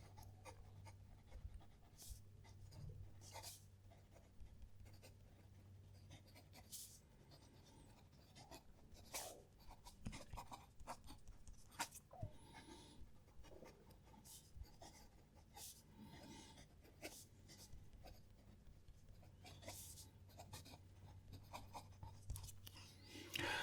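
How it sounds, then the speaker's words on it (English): A Benu Haute Decadence fountain pen writes a sentence on paper in faint, close scratchy strokes. Short bursts come and go, and a low hum runs quietly underneath. "I'll write a sentence."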